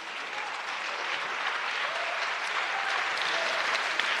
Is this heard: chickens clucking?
no